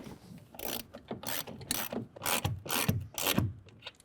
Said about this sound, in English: We're going to use a 9/16 socket to tighten that down.